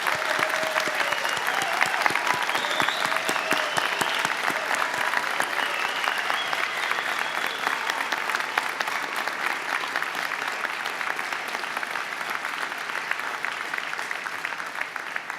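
Family, friends, faculty and staff applaud graduates at a spring Faculty of Management convocation: a large hall filled with sustained, even clapping, moderately distant, with faint voices and a few brief tones underneath.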